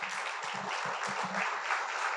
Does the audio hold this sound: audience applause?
yes